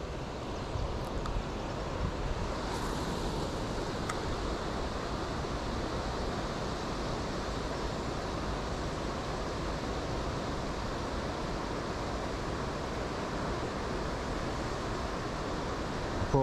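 Water pours over a weir on the River Calder, a loud, steady broadband rush held unbroken from near by, without voices.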